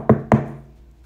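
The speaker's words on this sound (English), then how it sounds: "Later, Mouse was again knocking on Pig's door." Two firm knocks on a door, close and distinct, spaced about a fifth of a second apart, with a short fading resonance after.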